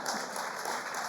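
An audience applauds at a university libraries awards ceremony, giving a brief, steady wash of clapping heard from a distance.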